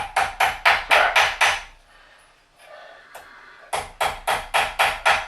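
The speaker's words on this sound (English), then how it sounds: "Put it there and then just hammer it flat." A hammer strikes parts of a paper crafting press flat in a quick rhythmic run of sharp knocks, goes quiet briefly, then resumes with another even series of blows.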